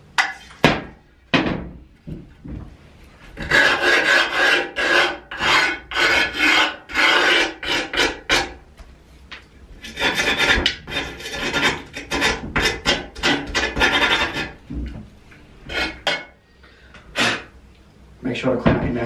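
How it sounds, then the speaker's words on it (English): Close, loud rasping strokes of sandpaper or a file work along the edges of skateboard griptape on a wooden deck, in repeated back-and-forth bursts with short pauses between them. "So once you've sanded down the sides like so"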